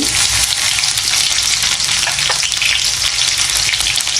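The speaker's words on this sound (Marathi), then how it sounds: "जिरे अर्धा चमचा लसूण आणि मिरची घालायची" Cumin, garlic and chili hit hot oil with mustard seeds for an okra dish, giving a loud, dense, continuous crackling sizzle close by with no pauses.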